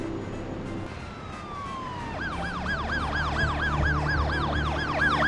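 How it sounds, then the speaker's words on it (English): A police car siren wails in a film scene, a rapid repeating yelp that rises and falls in quick even cycles, loud and near over a low rumbling background. "look at the police car when you hear the siren"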